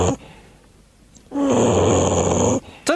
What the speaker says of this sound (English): Sounds like he's snoring.